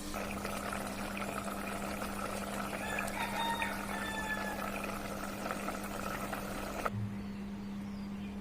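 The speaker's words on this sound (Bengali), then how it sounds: "এবার ঝোলের জন্য পানি দিয়ে দেবো" Water poured into beef that is being braised for a gravy makes a steady, rushing hiss that runs for about seven seconds and then stops. Fowl or a rooster can be heard faintly in the background.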